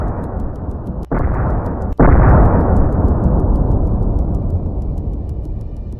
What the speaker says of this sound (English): As immediately as the target was detected, a HIMARS precision strike destroyed it.